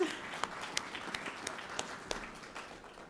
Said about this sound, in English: I think we can give him a round of applause.